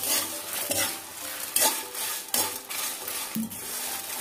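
Chicken sukka masala is stirred in a pan, producing rhythmic, close scraping strokes of a spoon against the pan, about six passes over a light background sizzle.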